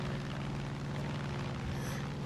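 A steady, loud drone of a plane engine in Far Cry 5, a continuous rumbling roar with a pulsing low throb and no pauses.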